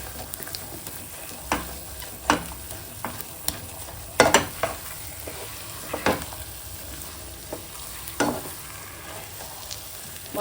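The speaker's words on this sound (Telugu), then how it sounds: "ఒక 1/2 టీ స్పూన్ ఇలాచీ పౌడర్ వేసుకోవాలండి. వేసి ఒకసారి బాగా మిక్స్ చేసుకోవాలి." Bombay Karachi halwa made with corn flour is stirred in a pan after cardamom powder goes in, giving a soft sizzle under irregular scraping strokes with a few sharper knocks of the spoon against the pan.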